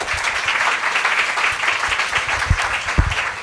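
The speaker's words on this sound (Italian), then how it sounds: "Un applauso per favore, grazie." An audience claps for a developmental psychology professor being introduced at a university talk, a dense, steady wash of applause across the whole stretch with a few sharper nearby claps standing out.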